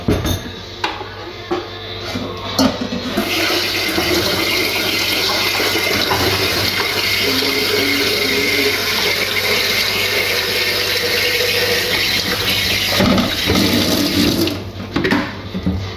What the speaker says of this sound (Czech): jdu si teda napuštět vodu do té konvice